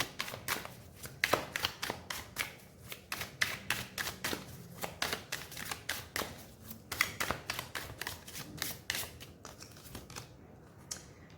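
Tarot cards being drawn and shuffled, giving a steady run of crisp, close card flicks and snaps in quick rhythmic bursts for most of the stretch, with no talking.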